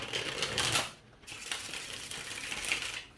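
Crisp riffling bursts of tarot cards being shuffled, two quick rounds separated by a short pause, close by with no talking.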